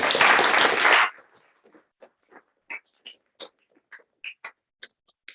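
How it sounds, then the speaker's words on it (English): A burst of audience applause at an evening talk event cuts off after about a second, leaving a few scattered, isolated claps echoing in a quiet room. "Round of applause, guys"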